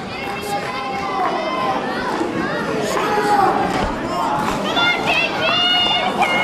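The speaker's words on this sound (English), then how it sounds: "There you hear the cheers of support from the crowd here at the Ridgely in Fort Worth, Texas." A wrestling crowd at the Ridgely Theater in Fort Worth, Texas cheers and shouts loudly and continuously, with scattered high voices and claps filling the hall.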